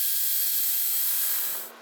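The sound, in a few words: drilling a hole in an Airstream trailer roof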